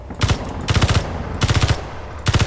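Rapid bursts of automatic gunfire aimed at turrets in Space Engineers, four separate volleys of quick rattling shots with short gaps between, loud and close, no talk.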